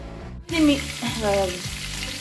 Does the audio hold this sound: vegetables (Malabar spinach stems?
yes